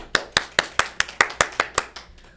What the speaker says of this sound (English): Let's give EJ a round of applause.